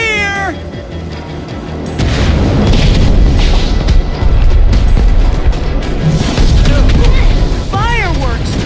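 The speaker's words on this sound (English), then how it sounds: "Fireworks!" Fireworks burst in the video game Minecraft Story Mode, a loud rush of booming blasts and crackle that runs continuously, mixed with cat-like cries and whistling tones at the start and end.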